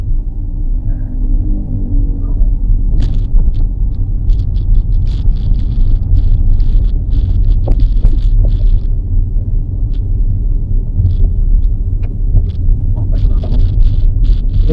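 An automatic car climbing a slight uphill on light throttle gives a steady low engine rumble and road drone throughout, with faint clicks and small rattles above it and no talking.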